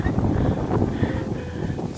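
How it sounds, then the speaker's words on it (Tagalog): Strong wind buffets a hilltop on a coastal hike, a steady loud roar across the microphone with no break throughout. "Lakas ang hangin, guys."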